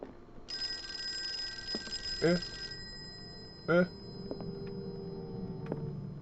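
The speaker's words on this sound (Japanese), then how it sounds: "電話が来た。" An old telephone rings inside the Call of Cthulhu video game, a sustained electronic bell tone with a few sharp metallic chirps, while people talk over it.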